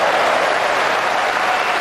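Steady, dense applause from an indoor crowd at a professional table tennis match, continuous and fairly loud throughout with no talk over it.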